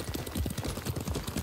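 Horse galloping in the video game Ghost of Tsushima, a quick rhythmic run of hoofbeats pounding steadily throughout over a low ambient bed.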